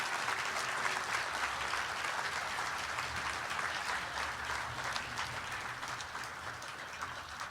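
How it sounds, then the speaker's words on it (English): Sustained, dense audience applause at an annual celebration event, steady and loud from start to finish with no voices above it. "let's give them a rousing round of applause and welcome."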